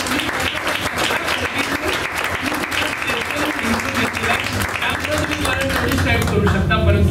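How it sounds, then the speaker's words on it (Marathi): A sermon audience applauds itself with dense, sustained clapping that fills the whole stretch, loud and continuous, with a faint murmur of voices mixed in. "वाजवा टाळ्या स्वतःसाठी."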